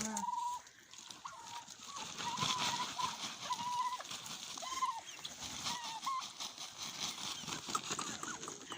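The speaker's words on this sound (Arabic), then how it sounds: "الوالده دابا كيعطي الدجاج ياكل" Chickens being fed at dusk cluck and call in short repeated notes, set against a busy layer of rustling, scattering and splashing noises, with faint talk in the background.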